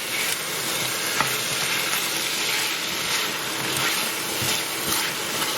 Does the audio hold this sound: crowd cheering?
no